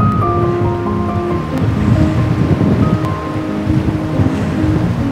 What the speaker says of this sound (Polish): Jak widzicie, fale są dosyć duże.